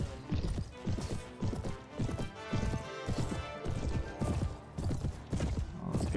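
Horses galloping in Mount & Blade Warband, a loud, close rhythmic pounding of hooves repeating steadily throughout, with no talk over it.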